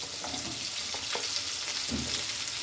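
Pumpkin pieces and Malabar spinach stems fry in a pan, a soft constant sizzle with a few scraping stirs and clinks.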